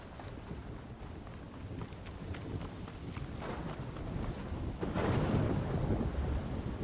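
A thunderstorm brewing in the video game Horizon Forbidden West, with a low, rolling rumble and a steady wash of wind and rain that swells noticeably louder partway through, no voices.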